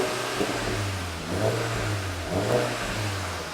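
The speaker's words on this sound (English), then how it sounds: "Ian right here is going to help us give us a startup to just hear how the Sepang edition beautiful Golf GTI sounds like" Volkswagen Golf GTI Mk8 Sepang Edition engine running close by, a steady low drone with a few brief revs rising and falling, no talking over it.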